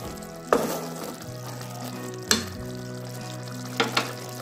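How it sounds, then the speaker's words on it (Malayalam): Ginger frying in a pan for an Onam-style inji curry, a steady sizzle with three sharper clatters of stirring or pieces dropping in, fairly close and with no voices. "ഇതിലേക്ക് നമുക്ക് ഇഞ്ചി ഇട്ട് കൊടുക്കാം."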